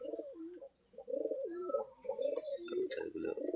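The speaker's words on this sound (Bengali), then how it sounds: "সকাল সকালে এখানে কবুতর ডিমে বসে আছে।" Pigeons brooding on eggs at a duck and chicken poultry farm in the morning coo in repeated rolling, throaty phrases, close and clear, with faint chirps behind and no talk.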